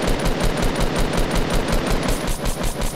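Rapid automatic gunfire in a Fortnite match, a loud unbroken burst of closely spaced shots filling the whole moment.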